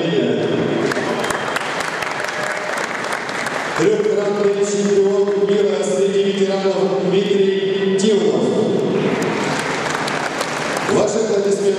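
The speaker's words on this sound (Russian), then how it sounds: "Ваши аплодисменты поставлены спортсменам." An audience applauds athletes at a parade: bursts of clapping alternate with an announcer calling names over a loudspeaker, the applause swelling loudest at the start and end.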